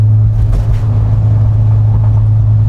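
A 1956 VW Airstream's engine runs steadily while driving, a loud, continuous low rumble with a constant drone and no pauses.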